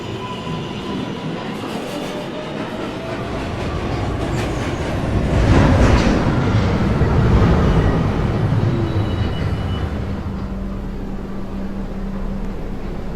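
A New York City subway Local 1 train pulls into a station, its rumble and rail clatter swelling to a loud peak midway, then settling into a steady hum with faint squeal, no talking.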